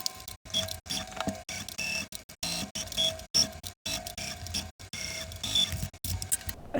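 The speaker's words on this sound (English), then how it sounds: "we're just going to sew with a 1/2 inch seam allowance and sew the sleeves to the bodice" A sewing machine sews sleeves onto a dress bodice in short, stop-start bursts of quick mechanical clicking, separated by brief gaps of silence, faint and close.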